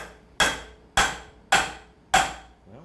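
Four evenly spaced, sharp metallic hammer taps strike an engine flywheel that has its nut threaded back on. The blows are close and loud, each ringing briefly before the next.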